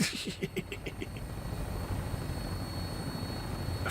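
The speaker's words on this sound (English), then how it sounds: "Where is this helicopter?" Helicopter in the video game Fallout 4 hovers nearby with a steady, loud rotor and engine drone, rhythmic blade chopping more distinct at the start, continuous throughout.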